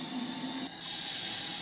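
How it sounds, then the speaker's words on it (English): Hot water and steam hiss steadily from the blowdown valve on the water gauge of a model steam engine boiler dating from around 1896, close and continuous, with a brief change in tone partway through. "opening the blowdown valve on the water gauge to release some water from the boiler"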